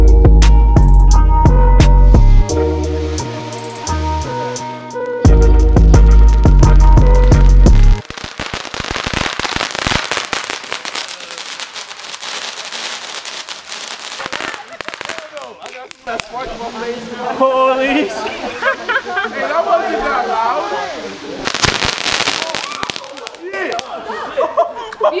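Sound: fireworks being lit and exploding

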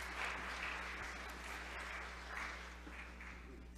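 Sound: congregation applause

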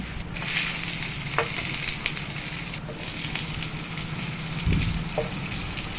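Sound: frying chillies and tomatoes in oil

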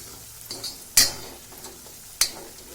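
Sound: stir-frying masala with gram flour

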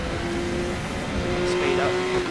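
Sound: race car accelerating in Need for Speed Most Wanted video game

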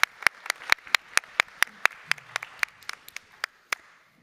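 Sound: forum audience applauding

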